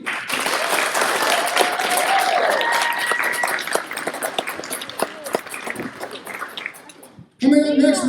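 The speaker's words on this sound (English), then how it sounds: "Round of applause for Keena and Courtney." Loud audience applause and cheering for two performers at a school-style extravaganza show, sustained clapping that gradually thins out before a voice cuts in at the end.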